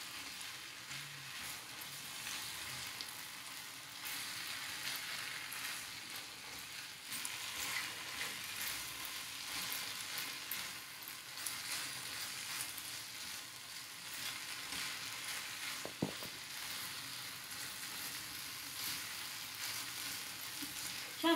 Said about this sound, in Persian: یه تفت کوچولو قارچ رو میدیم.